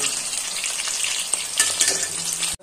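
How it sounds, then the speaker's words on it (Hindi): Chicken pieces deep frying in hot oil, a loud continuous bubbling sizzle close up with a few scraping stir sounds, no voices. "ये जो तेल में डाला ना ये वाला लास्ट चिकन है"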